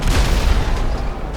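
Explosion in Grand Theft Auto Online, a loud, dense rumbling boom with crackling debris that sustains and slowly fades, alone without talk.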